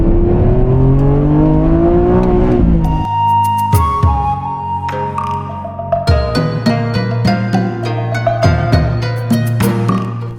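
A Lamborghini Revuelto V12 engine loudly winds up through the revs, drops off, then barks in a string of sharp throttle blips and upshifts, close and clear with no talking.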